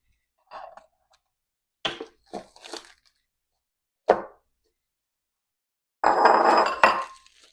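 Hefty ceramic bowls for a fall table setting clink and knock together in several short, close, bright bursts, ending in a longer clattering scrape as they are handled, with no talk over them.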